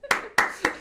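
Three sharp hand claps ring out in an even, deliberate rhythm, close and crisp with brief pauses between them.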